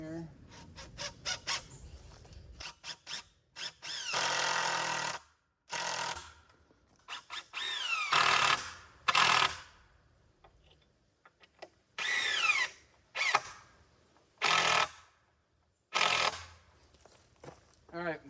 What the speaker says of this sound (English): I just put 2 screws in the side of each one